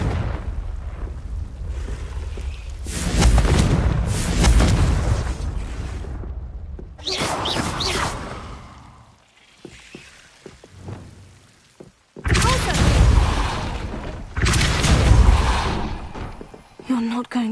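Confringo blasting spell going off in the Hogwarts Legacy video game, loud booming bursts with crackling debris separated by quieter gaps, and a voice speaks between them.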